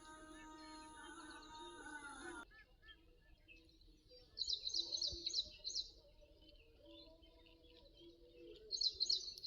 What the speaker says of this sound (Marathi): नदीच्या काठी या पक्ष्यांचं किलबिलट असलं तर वायच मस्त वाटता